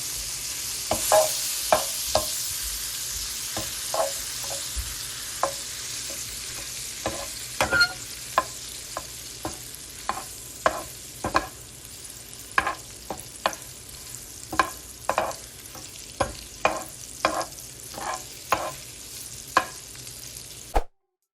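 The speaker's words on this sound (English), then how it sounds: "To test the freshness of pasta, I'm going to saute it lightly with butter." Fresh homemade pasta sautéing lightly in butter in a pan, a steady soft sizzle with repeated sharp scraping and stirring clicks throughout, close and without talk.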